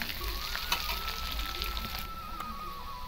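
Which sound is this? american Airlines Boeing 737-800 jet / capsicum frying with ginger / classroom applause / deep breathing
capsicum frying with ginger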